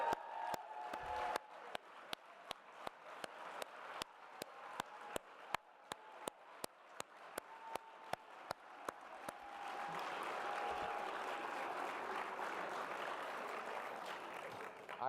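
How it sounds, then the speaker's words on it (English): An audience applauds students leading a movement at an event where Arne Duncan speaks. Sharp individual claps sound close by, then the sound thickens into a softer, continuous wash of applause from a crowd. "please give them a huge round of applause"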